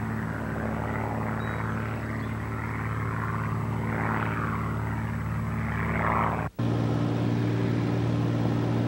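Steady propeller drone of a tow plane pulling a glider aloft, a continuous droning hum with strong low harmonics and no break, one abrupt dropout near the end before it resumes louder and lower.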